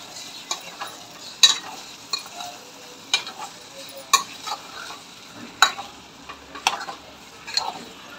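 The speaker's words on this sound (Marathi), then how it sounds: "आता आपण कोलंबी टाकून घेऊया आणि कोलंबी छान प्रकारे मिक्स करून घेऊ" Prawns being stirred into masala frying in oil, with a steady sizzle and irregular scraping strokes of a spoon against the pan, moderately close and without talk.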